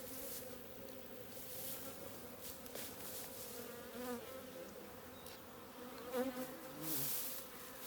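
Honey bees swarm and buzz steadily around a hive box during a beekeeping session, a dense, continuous drone with a few louder passes close by and no talk.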